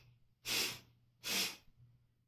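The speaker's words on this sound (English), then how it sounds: "And then through the nose, 3 quick exhales." A person pushes out quick, forceful exhales through the nose, two sharp close puffs of air a short gap apart over a faint low hum.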